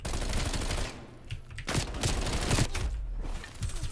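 Bizon submachine gun firing in the shooter Call of Duty Cold War: loud, rapid bursts of close gunfire with short gaps between them, over constant game noise.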